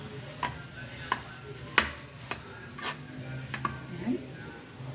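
Leftover white rice being stirred in a pan as fried rice, with scraping spoon strokes at irregular intervals over a soft sizzle and low background hum.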